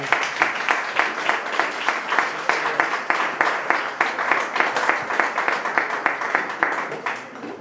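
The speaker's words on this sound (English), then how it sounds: "give them a round of applause." A small audience at a real-estate talk gives a round of applause, its claps moderately loud and somewhat uneven, tapering off after about seven seconds.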